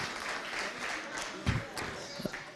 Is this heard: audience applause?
yes